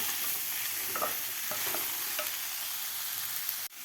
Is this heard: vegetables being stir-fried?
yes